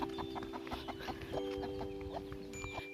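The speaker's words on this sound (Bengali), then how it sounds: "দেখুন একটা মুরগি বাচ্চা নিয়ে করতেছে" A hen clucking among her chicks in a hill village, a close, busy run of short clucks and soft peeps over light background noise, with no talk.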